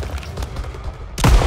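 Gunfire in Call of Duty WW2: a heavy, close boom bursts out at the end after a stretch of quieter battlefield rumble and faint scattered shots.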